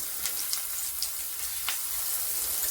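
Spiced eggplant slices fry in hot oil in a pan, giving a soft, steady sizzle with scattered small pops and crackles, fairly quiet and uninterrupted by speech.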